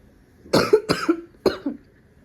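Three close, harsh coughs from a person with a cold, in quick succession, loud against a quiet background.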